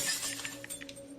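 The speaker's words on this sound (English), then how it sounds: "Glass breaks." Glass shatters and tinkles in a horror video game, a burst of breaking shards with scattered clinks over a steady low electronic hum.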